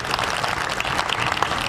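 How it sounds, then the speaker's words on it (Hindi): An audience claps at a Delhi Police Week event, a brief burst of dense, steady applause at moderate loudness with no voices above it. "इसके लिए एक बार जोरदार तालियां।"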